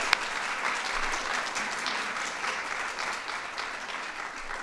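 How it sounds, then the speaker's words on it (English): At a White House event for healthy lunch recipe contest winners, the audience gives a sustained round of applause for parents and grandparents, a steady dense clapping throughout. "So let's give our parents, grandparents a round of applause."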